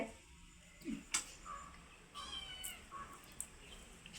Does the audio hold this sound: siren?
no